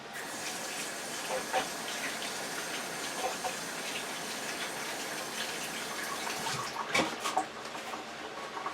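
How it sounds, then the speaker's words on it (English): Tap water runs steadily into a kitchen sink as hands are washed, a continuous broadband splash with a few brief clatters and a louder gush near the end, no talking. "I'm going to wash my hands."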